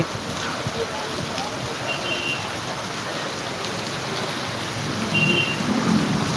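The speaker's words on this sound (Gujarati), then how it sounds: "અત્યારે ખૂબ સારો વરસાદ વરસી રહ્યો છે" A heavy downpour falls steadily in Jamkandorna, a close continuous rain hiss with faint voices in the background.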